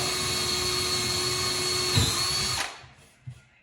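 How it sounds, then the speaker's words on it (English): A power drill with a sharp bit whines loudly and steadily, boring a 5 mm hole while fitting kitchen dressers, then spins down and stops, followed by a brief knock. "And then just drill 5 millimeter hole."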